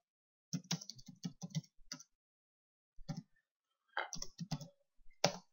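Typing on a computer keyboard while working in LibreOffice Writer: several quick bursts of key clicks separated by pauses, close and clear with no talking.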